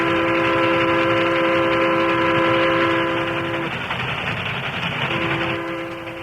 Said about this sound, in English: The train for Flat Rock was speeding through the rolling hill that lay to the west of town.